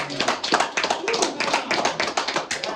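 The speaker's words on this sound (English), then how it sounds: "We got to clap that for Tom DiNapoli" A small group claps at an interview, with rapid, uneven hand claps in quick succession mixed with a speaking voice throughout.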